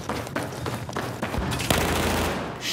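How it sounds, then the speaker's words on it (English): Rapid automatic gunfire from an F2000 rifle in Battlefield 4, a dense burst of close, loud shots in quick succession lasting a couple of seconds, with no talking. "I took my hand off the controller for a second, put it back, fire the gun"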